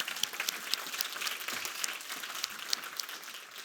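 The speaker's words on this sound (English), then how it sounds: "Let's give them one more big round of applause" Audience applause after a hotel asset management panel discussion at a conference, a steady wash of many hands clapping at moderate distance, even and sustained throughout with no talking over it.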